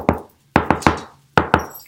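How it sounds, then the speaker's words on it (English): Someone knocks on a door in a quiet kitchen during soup-making: one sharp rap, then a quick triple knock, then a double knock, each crisp and close. "Still, I think somebody's knocking at the door."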